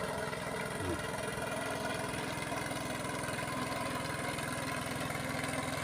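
A long-tail boat engine drones steadily and continuously at moderate distance on the water, a constant rough mechanical hum with no pauses.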